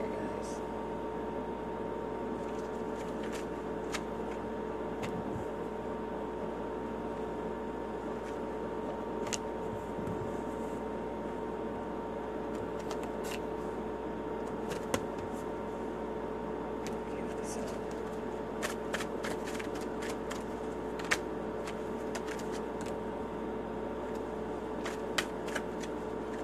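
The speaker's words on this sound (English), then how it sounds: "I'm going to be shuffling for a bit because, like I said, I'm using 4 decks." Four decks of tarot cards are shuffled continuously at close range, a steady papery riffling with occasional sharper snaps, no voice over it.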